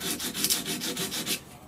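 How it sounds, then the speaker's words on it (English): A vintage hand plane being sanded with a hard sanding block, giving steady rhythmic rubbing strokes roughly every fifth of a second, close and moderately loud, with no voices. "And then you sand"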